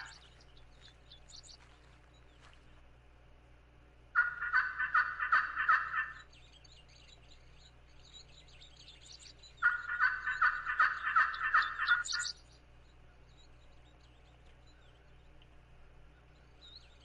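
Wild turkey in a hunting video game gobbling twice, each rapid rattling burst lasting about two seconds and spaced several seconds apart, over a quiet low hum with faint bird chirps.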